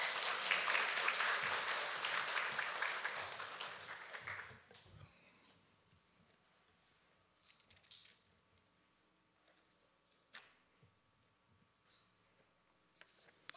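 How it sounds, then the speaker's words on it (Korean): Church congregation at an anniversary thanksgiving service applauding to welcome a pastor, a loud burst of clapping that fades out after a few seconds, followed by quiet room noise and scattered faint knocks. "우리 박수로 환영하겠습니다."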